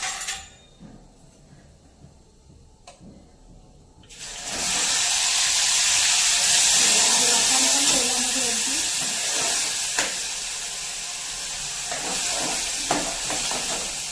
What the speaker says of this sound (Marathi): हे जे वाटण आहे ते तेलामध्ये अगदी व्यवस्थित आपण परतून घेऊया